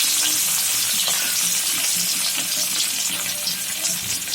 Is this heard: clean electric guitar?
no